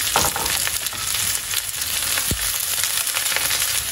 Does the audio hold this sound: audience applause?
no